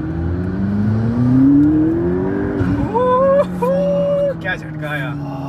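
A turbocharged Lamborghini supercar accelerating. The engine drone climbs steadily, then thin whistling tones rise and hold above it, loud and close, with voices talking over the car.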